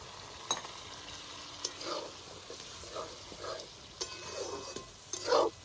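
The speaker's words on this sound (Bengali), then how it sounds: "এরপর আমি যে ছোলার ডালটা আমি সেদ্ধ করে রেখেছিলাম সম্পূর্ণটা এর মধ্যে আমি দিয়ে দেবো" Boiled chana dal tipped into fried spices for a sweet hing dal and stirred in a pan, with scattered scrapes and soft sizzling taps at irregular intervals, close and fairly quiet.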